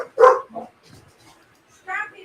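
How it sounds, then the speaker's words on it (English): Dogs bark outdoors, one sharp close yap followed by fainter barks, with a brief bark burst near the end amid quiet pauses. "Dogs are barking everywhere."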